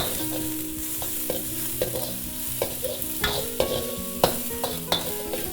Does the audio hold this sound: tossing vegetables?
yes